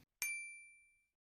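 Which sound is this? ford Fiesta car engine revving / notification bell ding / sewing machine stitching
notification bell ding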